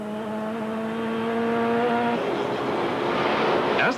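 Onboard a Van der Merwe Sasol Ford Sapphire race car at Killarney circuit in a 1992 Wesbank Modifieds race, the engine drones loud and steady, then the pitch drops abruptly midway as the car lifts or shifts, with a brief squeal near the end.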